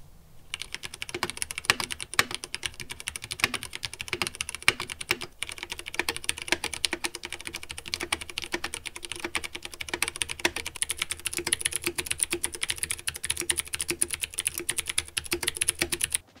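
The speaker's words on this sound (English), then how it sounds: "showing you the difference between the most common types of mechanical keyboard switches" Rapid, continuous typing on a mechanical keyboard, comparing red, brown and blue switches: a dense stream of crisp clicks and clacks at close range, steady throughout with no voices.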